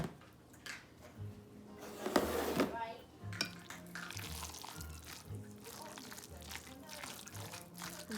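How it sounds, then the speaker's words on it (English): A spoon stirs pork hash filling mixed with cornstarch in a bowl, making soft scraping and clinking sounds. One louder clatter comes near the start, and the stirring goes on at a low, close level with faint background noise. "Stir this in."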